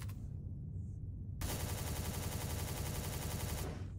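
Rapid automatic gunfire in the video game Empyrion, shooting golems, bursts in after a quiet start as a dense, fast rattle of shots that holds loud for a few seconds before stopping, with no speech.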